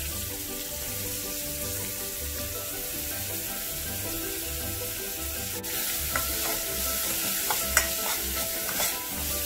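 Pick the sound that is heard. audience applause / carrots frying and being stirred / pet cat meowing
carrots frying and being stirred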